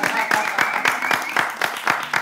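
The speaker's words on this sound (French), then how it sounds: "Oui, applaudissez." Audience at a televised show clapping in a steady rhythmic beat, fairly close and loud, with voices mixed in.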